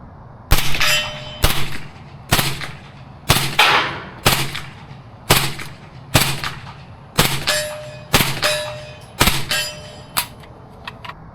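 Suppressed shots from a Century Arms 9x19mm SP5 SD rifle, each followed by a bright ringing clang of steel, about ten evenly spaced hits over eleven seconds, loud and without talk.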